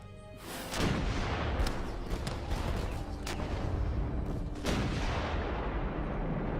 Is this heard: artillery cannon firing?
yes